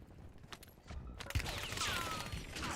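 Gunfire in the shooter game WarZone cracks out in a few scattered shots at first, then builds into a dense, continuous burst of rapid fire and mechanical clatter.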